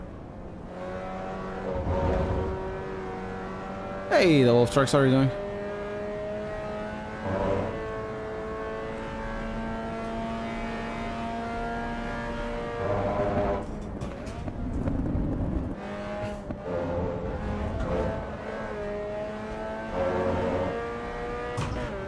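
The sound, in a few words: race car engine in video game Assetto Corsa EVO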